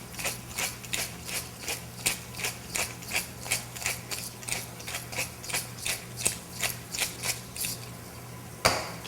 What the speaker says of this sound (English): Put some fresh pepper.